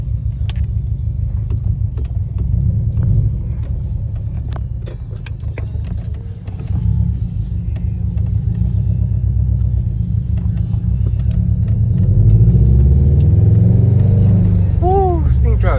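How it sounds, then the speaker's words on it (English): A Subaru WRX STI's engine rumbles loudly from inside the car while driving, holding a steady drone before revving higher near the end, with a person talking over it. "I finally get to drive the Subaru."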